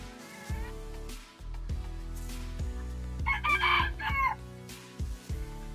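Chickens, including young chicks, cluck and chirp in a coop, with a rooster crowing partway through and a constant low electrical hum underneath.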